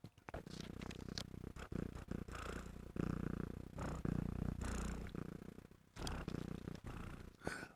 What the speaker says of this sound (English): she's purring like crazy